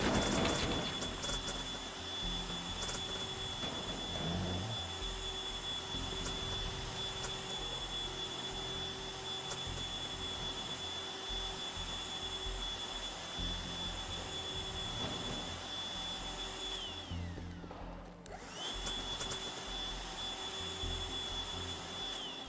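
A steady mechanical whine and roar of a modded vacuum cleaner in the video game Teardown runs continuously, briefly dipping near the end before resuming.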